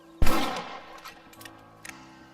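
Rifle fire in the Western video game Red Dead Redemption: one loud, close shot with a ringing decay, followed by two fainter, shorter reports a moment later.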